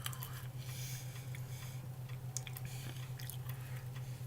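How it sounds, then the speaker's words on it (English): Donut-flavored Tic Tac candies are crunched and chewed near the mouth, giving quiet, irregular bites and squishy crackles over a low steady hum. "I started to chew them like that."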